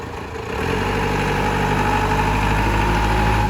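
A Toyota 5FD25 2.5-ton diesel forklift engine starts up and settles into a steady, close, low rumbling idle, with no voices over it.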